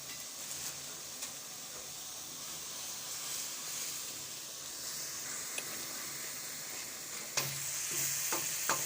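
Cumin seeds sizzle in hot oil in a karahi with a continuous bright hiss, and a few clicks and scrapes of a spoon come near the end.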